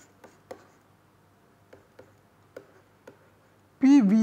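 Chalk or marker taps and short strokes on a board during a physical chemistry lecture come in a sparse, irregular series of light clicks in a quiet room, and a voice starts speaking at the very end.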